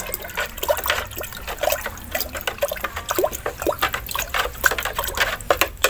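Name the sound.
stirring liquid grape fertilizer mixture in water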